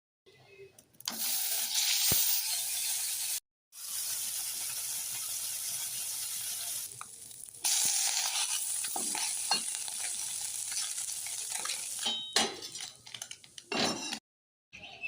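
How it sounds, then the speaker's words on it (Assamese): Small fish fry in oil in a village-style kitchen, with a loud, close, continuous sizzle and occasional clinks of stirring. The sound is broken by a few abrupt silent gaps. "এতিয়া আকৌ মাছ অলপ ভাজিম।"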